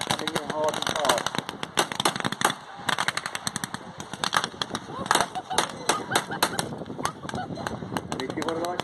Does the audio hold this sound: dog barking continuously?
no